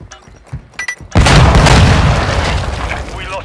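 A cluster mine blast in the video game Modern Warfare II: after a few short clicks and taps, a sudden loud booming explosion erupts and rumbles on, slowly decaying over several seconds.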